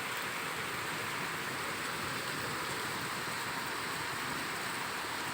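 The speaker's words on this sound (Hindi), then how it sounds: "अभी रात को इतनी बारिश हो रही है" Heavy rain pours at night outside a window, a dense steady hiss of falling water that stays even and unbroken throughout, with no voices.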